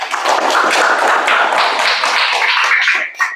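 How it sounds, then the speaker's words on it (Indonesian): Children in a classroom clap their hands together in a dense, steady round that holds for about three seconds before stopping abruptly, close and loud. "Tepuk tangan untuk kalian semua."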